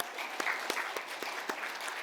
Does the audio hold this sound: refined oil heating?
no